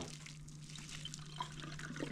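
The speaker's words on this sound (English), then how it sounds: "Draining out the water." Boiled water draining from a pot of rice, a soft, steady splashing and trickling stream heard faintly at close range with a low hum beneath.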